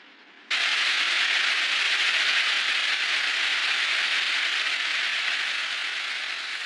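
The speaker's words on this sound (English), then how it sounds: "The rain is coming." Rain starts abruptly and pours steadily, a dense, loud hiss of drops on surfaces that continues unbroken to the end.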